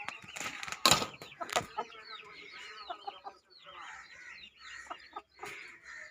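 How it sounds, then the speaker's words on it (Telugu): Backyard chickens, a rooster and a laying hen, cluck and squawk close by, with a loud burst of calls early on followed by repeated softer clucks and chirps. "అలాగే దీంట్లో కోడి పెట్ట కూడా ఒకటి ఉంది"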